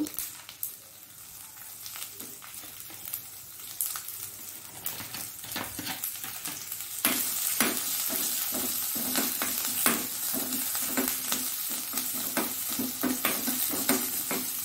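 Chopped ginger and green chillies sizzle steadily in hot oil for a tempering, with the stirring spoon scraping the pan now and then and the frying growing louder partway through.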